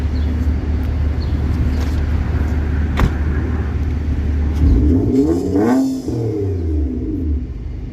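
A 2012 Nissan Maxima engine rumbles steadily at idle, then revs up and falls back, heard up close with a deep, throaty growl.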